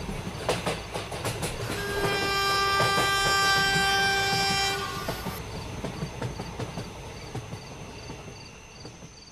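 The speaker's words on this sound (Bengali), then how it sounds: "একটা সময় ট্রেনের শব্দটা ধীরে ধীরে থেমে গেল।" A train in an animated horror story rolls along the rails with a steady clickety-clack, and a long sustained horn rises over it before the rumble fades out.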